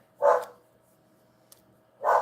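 Two short dog barks about two seconds apart, fairly loud, heard indoors at a slight distance, with near silence between them and no voices.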